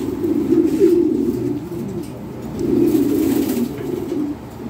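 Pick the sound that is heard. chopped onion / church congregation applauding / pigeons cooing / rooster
pigeons cooing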